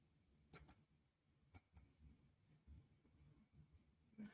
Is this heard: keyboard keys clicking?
yes